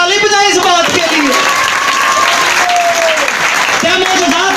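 A church congregation applauds in a packed hall, a loud sustained wash of clapping from many people while a voice speaks over it through a sound system.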